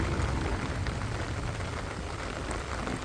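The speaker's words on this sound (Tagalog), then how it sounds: "Ito ang aming lugar kung saan umuulan." Rain falls steadily outdoors, a dense, even hiss of drops that stays constant throughout with no voices.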